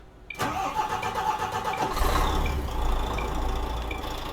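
A Neoplan Tourliner twin-axle bus in Euro Truck Simulator 2 cranks and its engine catches, rising into a steady, deep rumbling idle that fills the cabin, with no talking.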